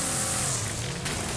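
Cars grinding and rumbling together in the Wreckfest demolition racing game during a pit maneuver, a loud continuous engine roar with a sharp crunch of impact near the end, no talking.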